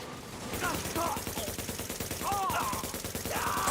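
Sustained gunfire from The Division video game, dense and rattling throughout, mixed with in-game voice callouts and electronic alert tones.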